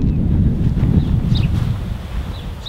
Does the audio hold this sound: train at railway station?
no